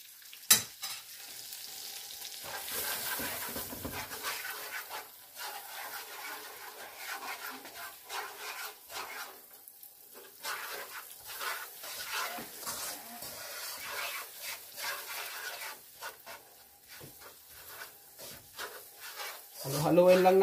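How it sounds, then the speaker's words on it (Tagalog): Butter and sugar stirred in a pan as they melt for cashew brittle, giving a steady soft sizzle with scraping stirs that continue throughout. "Haluin lang natin to mga kalode para ma-melt yung asukal."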